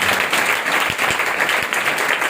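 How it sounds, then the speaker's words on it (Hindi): Loud, dense applause from a church congregation fills the space continuously for a couple of seconds, steady and close with no talking over it. "जोरदार तालियां खुदा के जिक्र के नाम के लिए"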